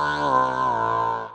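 Vocoder effect on a Zoom V3 vocal processor: a brief, robotic harmonic voice tone holding a dense stack of even pitches for just over a second, clean and alone.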